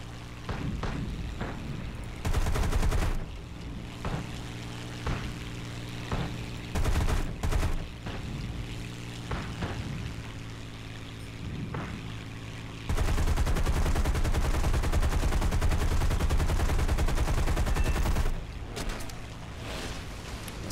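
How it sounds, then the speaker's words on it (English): Aircraft machine guns in War Thunder, fighting Hurricanes and a Gladiator: short rapid bursts and longer sustained streams of fire over a constant engine drone, loud and close, with no voices. "Shooting down hurricanes, left, right and centre."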